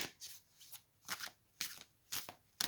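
Tarot cards shuffled by hand in five brisk riffling bursts, close and crisp, separated by short pauses with no talking.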